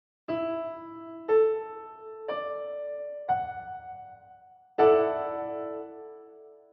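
Piano notes sound one after another, five separate strikes building a perfect fourth and a major third, each ringing briefly, the last one louder and sustained as it decays.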